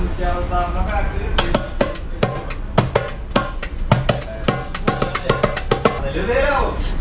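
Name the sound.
darbuka Arabic drum being played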